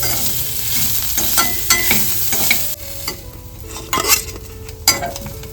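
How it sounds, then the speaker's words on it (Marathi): Soybean chunks fry in a pan, giving a loud continuous sizzle broken by repeated scraping and clinking as a utensil stirs them. "ते पण व्यवस्थित फ्राय करून घ्यायचे."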